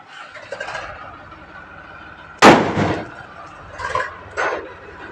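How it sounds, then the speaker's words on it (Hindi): A single sharp firecracker bang bursts out mid-clip during Diwali, followed by a few softer pops and crackles over faint background noise. "फिर तीसरी बार में पटाखा जल जाता है"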